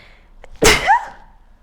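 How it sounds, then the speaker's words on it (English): A single loud sneeze close by, with a short sharp intake followed by a forceful burst that trails off within half a second, with no talking around it. "I feel like I need to sneeze."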